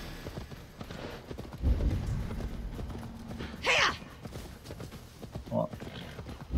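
A horse ridden through a forest in Assassin's Creed Valhalla gives a steady clip-clop of hooves throughout, with a brief vocal burst partway through and other quiet game ambience underneath.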